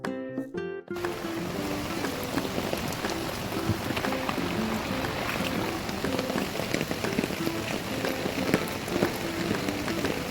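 Heavy rain pours down steadily, a dense hiss of drops on surfaces, loud and continuous after a brief rustle at the start.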